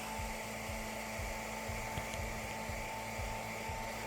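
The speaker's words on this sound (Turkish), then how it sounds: "Belki saç kurutma makinesi ondan daha kuvvetli ısı veriyor." A hair dryer blows hot air onto a Samsung Galaxy J4 during screen repair, giving a steady, even whir with a constant motor hum and a few faint clicks underneath.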